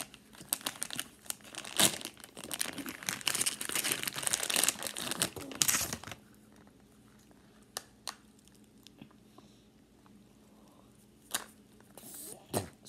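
Mesh doll fidget toy packaging being cut open: busy crinkling, tearing plastic and snipping for about six seconds, then quieter scattered crinkles and handling clicks close to the microphone.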